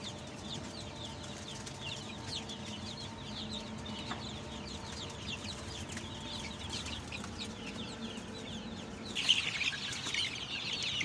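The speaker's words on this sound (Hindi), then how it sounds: "अब लाइट सुसेक्स का आज 2 दिन का चिक्स है हमारा" A brood of two-day-old Light Sussex chicks chirps in a steady, busy chorus of soft high peeps, fairly quiet and close, with a brief louder flurry near the end.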